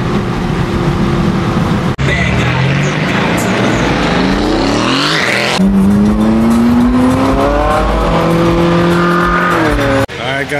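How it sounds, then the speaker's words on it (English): A turbocharged car engine on a cold morning at a Cars and Coffee meet in Oviedo: loud, continuous close-up revving that climbs and falls, shifting through gears, with voices in the background. "Turbo lovely in the morning with this cold weather."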